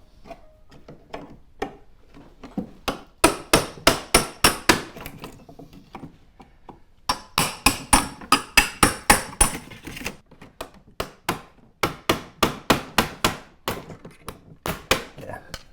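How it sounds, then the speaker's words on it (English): A small pry bar or 5-in-1 tool is tapped repeatedly to cut through nails holding window weather stripping, producing close, sharp metallic knocks in quick rhythmic runs of several hits separated by brief pauses. "if you get like a little pry bar or a 5-in-1 and you just tap through them, you can cut the nails"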